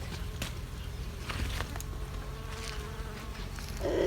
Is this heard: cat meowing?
no